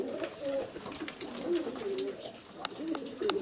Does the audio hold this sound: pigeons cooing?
yes